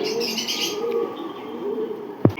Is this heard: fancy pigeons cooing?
yes